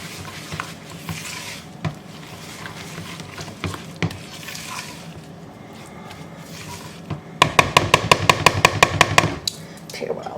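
Brown sugar, light corn syrup and sweetened condensed milk being stirred in a bowl for microwave caramels, a soft sticky scraping that builds into a quick run of loud, rhythmic spoon strokes near the end.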